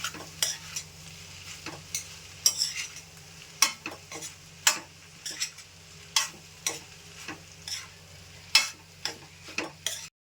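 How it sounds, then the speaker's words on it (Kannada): Rice is stirred into a frying mixture in a pan with a spoon, giving irregular scraping clicks over a soft, continuous sizzle, quiet and close, with no talk. "ರೈಸ್ ಸೇರಿಸ್ಕೊಳತ್ತೀನಿ ರೀ. ಈಗ ಮಿಕ್ಸ್ ಮಾಡ್ಕೊಳ್ಳೋಣ ಅಂತ ನಾವು"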